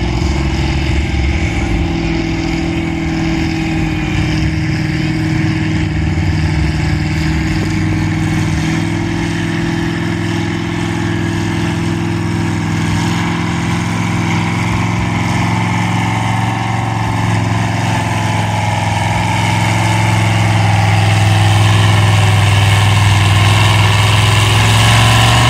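Farmall M tractor fitted with a V8 engine pulling a 5,500 lb class at a tractor pull in Bonesteel, South Dakota, its engine droning steadily and loudly throughout with no speech, rising in heaviness toward the end.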